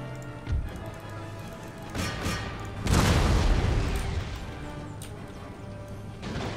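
Cannon fire in the strategy game Empire: Total War, several booming blasts and crashes in quick succession, the loudest rolling out near the middle over a continuous battle din.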